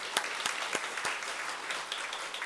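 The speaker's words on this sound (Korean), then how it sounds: "박수 한번 드려요" A church congregation at a Sunday morning service claps together in a soft, steady patter, with a few sharper individual claps standing out near the start.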